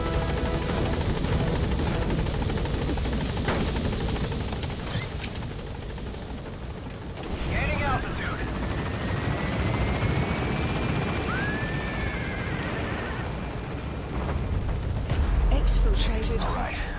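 A helicopter in Metal Gear Solid V as a continuous, loud rotor and engine drone throughout, with occasional game effects and thumps, and someone talking over it at times.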